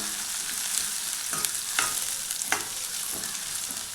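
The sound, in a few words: sautéing onions and green chilies in pan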